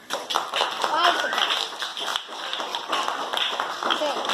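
Schoolchildren in a classroom clap to praise two groups, a lively patter of many small hands that keeps going steadily, with voices talking and calling over it.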